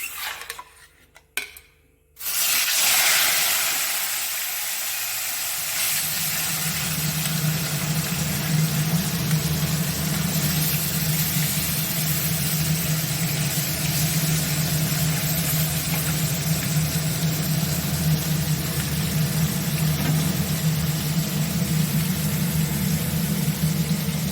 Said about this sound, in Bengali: তেল গরম হয়ে গেছে, মাছটা দিয়ে দিই।